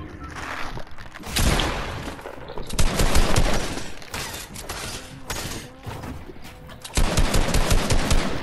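Automatic gunfire rattles in the Fortnite battle royale video game, with loud rapid bursts of shots in several volleys separated by short gaps, close and dominant.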